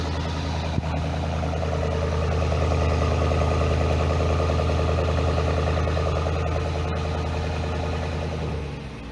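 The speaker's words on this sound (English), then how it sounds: "You can see guys the engine starting." A 2020 BMW M850i xDrive runs close by with a steady, deep, continuous engine drone, alone with no voices.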